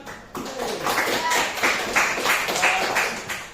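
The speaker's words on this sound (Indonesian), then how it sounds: "Tepuk tangan buat." Children clap their hands together in a classroom during a religious lesson, a dense burst of claps with a few voices mixed in, fairly close and steady for a few seconds.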